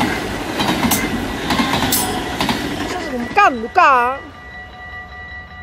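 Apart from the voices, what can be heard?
train passing on the track in Roermond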